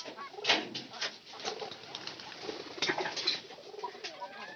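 Pigeons coo inside a house, soft rolling calls repeating throughout against a busy indoor background with faint rustling, no talk.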